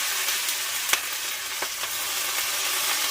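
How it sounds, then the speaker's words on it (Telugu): Onions and gongura leaves fry in a pan with a steady, close sizzle and a few sharper crackles and pops, with no voices. "ఉల్లిపాయలు వేగుతున్నప్పుడే మనం కొంచెం తీసి పెట్టుకున్న గోంగూర కూడా వేసేస్తున్నాం."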